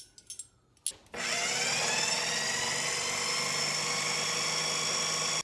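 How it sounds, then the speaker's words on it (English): A food processor whizzes cream and salt into butter: after a few short knocks, the motor starts and holds a loud, steady high whine with a bright whirring tone. "add my cream into my food processor. And my salt. And then I'm just going to give it a whiz until the consistency is correct."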